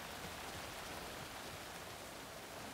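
Rain from the video game Alan Wake II falls steadily as a soft, even hiss, with no voices.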